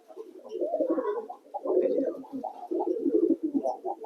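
White Lakha pigeons coo in a breeding loft, soft repeated throaty coos in close rhythmic phrases, near and moderately loud.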